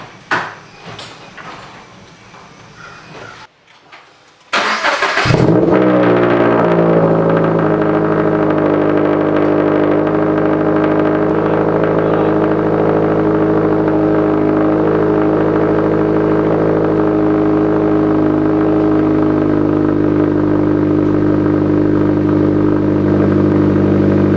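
After a few seconds of quiet shop noise, a Subaru BRZ fitted with a Tomei catback exhaust starts and settles into a steady, loud idle that drones on close by for about twenty seconds.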